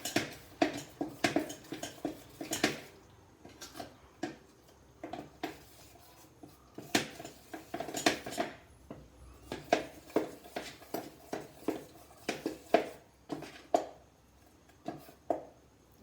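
Appam batter being stirred after salt is added, a steady run of soft scraping and tapping strokes of a spoon against the bowl, close and fairly quiet, continuing without talk.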